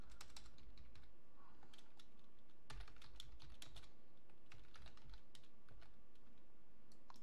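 Steady fast typing on a computer keyboard, close and quiet, with irregular clusters of sharp key clicks over several seconds and no talking.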